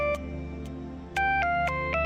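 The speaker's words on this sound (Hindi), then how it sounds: "किसका फोन आ रहा है?" A phone rings with an incoming call, a repeating electronic ringtone of short melodic tones that starts soft and then grows louder and closer, with no talking.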